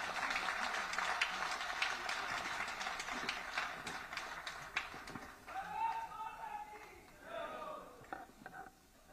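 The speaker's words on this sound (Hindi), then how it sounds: "माननीय डॉक्टर सतीश पूनिया जी प्रदेश अध्यक्ष, एक बार जोरदार तालियों के साथ।" Crowd applause at a BJP political rally in Rajasthan: dense clapping for about five seconds, then thinning out as an amplified voice takes over.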